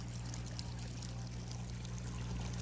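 Waste water drains out of the opened waste bulb of a Nexus 220 pond filter. It makes a faint, steady rushing trickle over a low hum, unbroken from start to finish.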